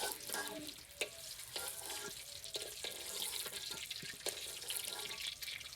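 Eggs fry on a wood-fired clay stove in a Bangladeshi village kitchen, giving a continuous bright sizzle broken by scattered sharp pops and crackles, with no voices.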